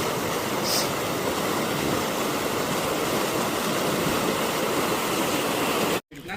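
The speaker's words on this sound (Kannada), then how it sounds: "ಚಾನಲ್ಲಾಗಂತೂ ನೀರು ಭಾರಿ ಹರಿತೈತೆ." Water rushes heavily through a channel in a steady, loud, close roar of broadband noise that continues without speech and cuts off briefly near the end.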